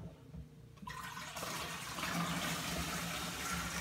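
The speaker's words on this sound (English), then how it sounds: "we're gonna add about a gallon of water to it" Tap pouring filtered water into a beer fermenter for a home brew kit, starting after a quiet moment then rushing steadily and close.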